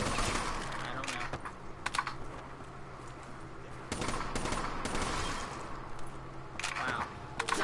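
Gunfire in the Giant zombies map of a shooter game, scattered sharp shots and short bursts over a steady background, with keyboard clicks mixed in and someone talking at times.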